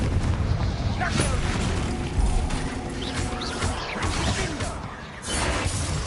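A Confringo blasting spell explodes during combat in the Hogwarts Legacy video game on PS5, heard as a dense, loud, sustained roar of booms and clattering mechanical debris that runs throughout, briefly thinning near the end.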